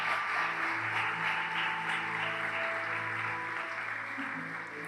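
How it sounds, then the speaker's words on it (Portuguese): A church congregation applauds steadily in a soft, continuous wash of clapping, with sustained musical tones underneath. "aplauda bem forte o nome de Jesus."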